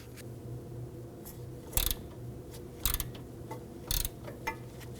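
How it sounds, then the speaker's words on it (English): A ratchet with a 17mm socket working a nut loose on a 2005-2009 Subaru Legacy steering rack, giving a few sharp metallic clicks at irregular intervals over a low steady hum. "Now I'm going to use a 17mm socket on my ratchet"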